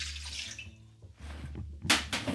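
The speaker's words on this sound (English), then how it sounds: "we're going to add the water" Water splashes into a bowl for pizza dough in short bursts, with a louder gush near the end, heard up close over a low background hum.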